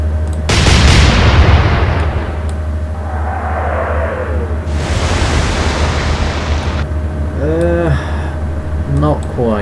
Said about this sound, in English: 3 guns fire from 3 turrets